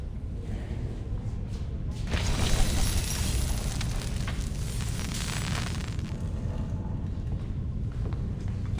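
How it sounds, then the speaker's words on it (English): A fireworks show in a video game, a dense rumbling roar of bursts and booms swelling after a couple of seconds, loud and continuous with no speech. "See, I can even put on my fireworks show again."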